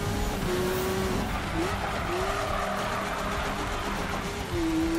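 A car drifting in the racing game Need for Speed (2015), its tires squealing in long wavering tones over a steady engine roar, loud and continuous throughout.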